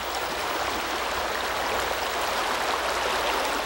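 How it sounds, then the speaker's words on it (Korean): Shallow stream rapids where a riffle runs over stones, giving a steady, close rush and babble of water that fills the whole stretch evenly, with no voices. "물살이 있고 물결이 있고 물소리가 있는 곳, 여울이다."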